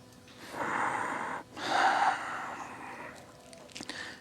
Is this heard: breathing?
yes